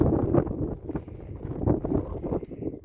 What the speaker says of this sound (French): il y a du vent en plus